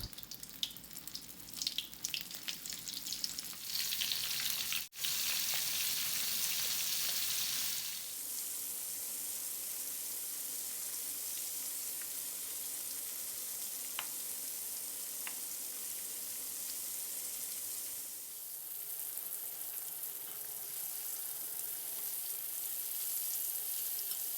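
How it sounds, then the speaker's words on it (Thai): Battered tilapia pieces deep-frying in hot oil give a steady, dense hiss and sizzle up close, changing in intensity partway through as pieces are added or moved, with no voices. "ให้เราทอดปลานินของเรานะครับ ให้สุกเหลืองกรอบทั้งสองด้านเลยนะครับ"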